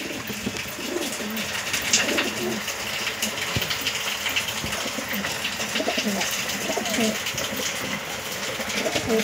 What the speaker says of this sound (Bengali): এইটা হলো ম্যাড্রাস পায়রা, এক জোড়া আছে ম্যাড্রাস পায়রা